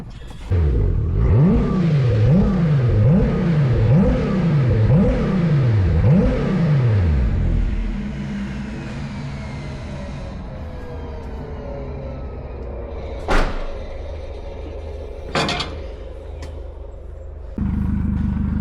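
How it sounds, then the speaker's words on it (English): A 500 bhp Toyota MR2 engine revs loudly in rising and falling bursts for several seconds, then shuts off and winds down with a fading whine and rumble, followed by a few faint clicks and a low hum. "once you've switched it off, it sounds like someone turning off a jet engine"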